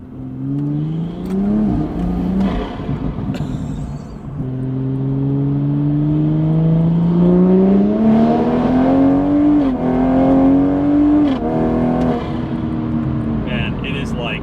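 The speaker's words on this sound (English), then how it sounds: "the intake is so loud now" A Toyota Supra engine tuned with MHD roars loudly through an open cone intake, pitch climbing steadily as it accelerates, with a brief dip and rise again near the end.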